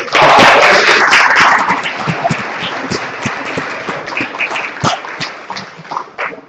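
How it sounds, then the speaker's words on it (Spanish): An audience at a public administration and law diploma session applauds a doctor: a loud burst of clapping at first that thins into scattered, uneven claps and fades over several seconds. "Que se oiga más fuerte el aplauso para el doctor."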